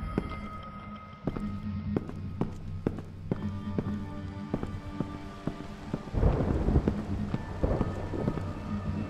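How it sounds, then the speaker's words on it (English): Thunder rumbling in the Evil Inside horror video game, a low swelling roll that builds near the end over steady rain and scattered sharp drops, with game ambience underneath. "Of course there's thunder."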